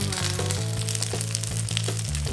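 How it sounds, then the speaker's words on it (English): Rice paper tteokbokki pan frying over medium heat gives a steady, soft sizzle that runs the whole time, partly masked by music playing over it. "Pan fry these till they're slightly golden brown"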